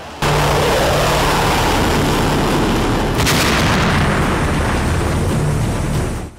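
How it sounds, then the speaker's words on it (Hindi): Russian warships fire warning shots near the British warship HMS Defender: a sudden, very loud, sustained roar of blasts with a sharp extra crack midway, then a slow fade, with no talking. "रूस की तरफ से वार्निंग फायरिंग की गई"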